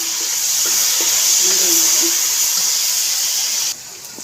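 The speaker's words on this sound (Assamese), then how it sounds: "বিলাহীটো এনেকৈ মই ভাজিম" Tomatoes frying in a hot pan, a steady loud broad sizzle and hiss close by with faint clinks, dropping abruptly quieter near the end.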